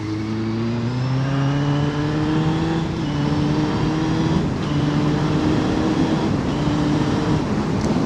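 A car drives past on a road at a blind bend, its loud engine droning steadily with a pitch that shifts as it goes by.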